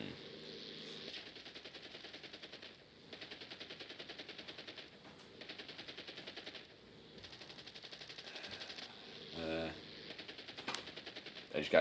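Aircraft gunners in the War Thunder combat flight game fire machine guns in long rapid bursts separated by brief pauses, loud and rattling, with some heavier booms near the end.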